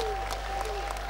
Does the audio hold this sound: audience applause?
yes